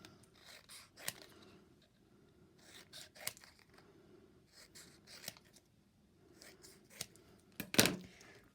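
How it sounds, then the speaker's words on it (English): Scissors snip out small paper pieces about a centimetre across for a spooky house craft, giving a series of close, crisp cuts in irregular bursts separated by quiet pauses, the final snip the loudest. "I just cut a bunch of them out,"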